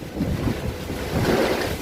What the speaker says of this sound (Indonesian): angin kencang pun tiba